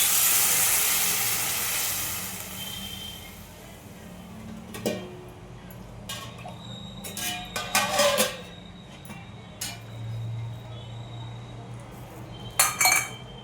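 Water heating in a pan for rice kheer gives a steady hiss that fades. Scattered clinks of a utensil against metal follow.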